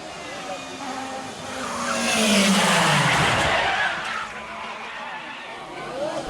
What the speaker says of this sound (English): road rage led to an intense crash between the Corolla and the Audi